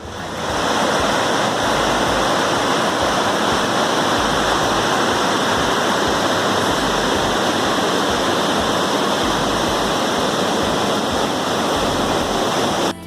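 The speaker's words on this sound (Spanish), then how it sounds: "el río Arazas se precipita en una preciosa poza de aguas cristalinas formando la cascada de Tamborreta." The Arazas river drops into a clear pool at the Tamborreta cascade, a loud, steady, unbroken roar of falling water heard close up with no talk.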